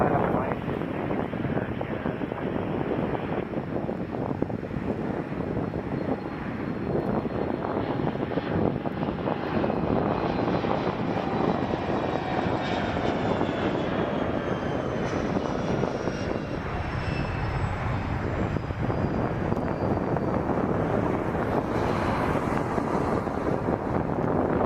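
An airliner takes off from runway 23 at Toronto Pearson Airport, its engines a loud, continuous roar with a slowly shifting whine, and wind buffeting the microphone throughout.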